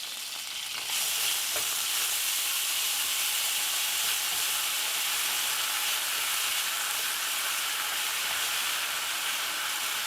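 Ginger paste sizzles loudly in a hot pan for a vegetable lo mein, a dense, steady frying hiss that starts abruptly and carries on unbroken with a little stirring.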